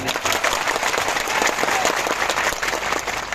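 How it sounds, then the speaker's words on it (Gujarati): A crowd at an Aam Aadmi Party political meeting breaks into loud, sustained applause, dense clapping filling the whole stretch with no pause. "એમના માટે જોરદાર તાળીઓ પાડી"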